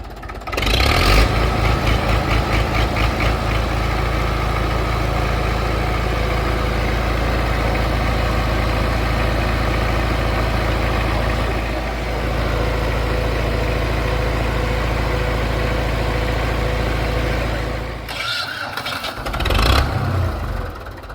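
A Belarus MTZ-50 tractor diesel fires up with a loud burst, then settles into a steady, deep idle heard up close for a long stretch, with a brief rev and clatter near the end.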